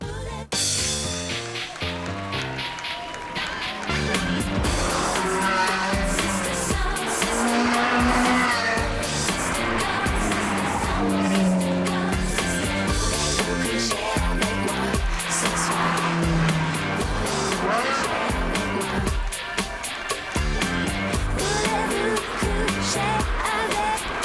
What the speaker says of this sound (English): Everything you feel and hear is magnified, especially the sound of the engine.